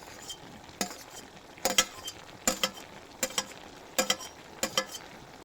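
Spoon scraping and knocking in a pan as sliced ripe tomatoes are stirred into a white potato curry, about six or seven clustered rhythmic strokes, close and clear over a faint sizzle.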